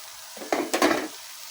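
Adobo sitaw, string beans simmering in soy sauce in a pan, stirred with a utensil: a brief burst of scraping and sizzling, two quick strokes near the mic with a low hiss beneath.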